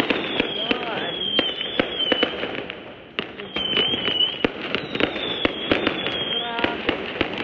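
Firecrackers going off on the last day of Chinese New Year, sharp loud bangs in rapid irregular bursts from nearby and farther off, with a whistling rocket streak above the crackle.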